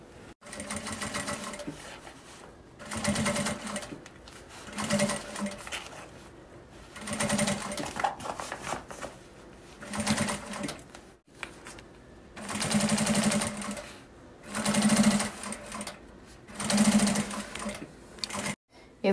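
A sewing machine joins the ends of a synthetic strap for a small car trash bag, running in repeated bursts of fast stitching separated by short pauses, with a voice heard between runs.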